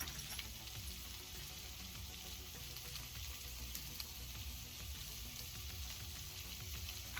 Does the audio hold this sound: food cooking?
yes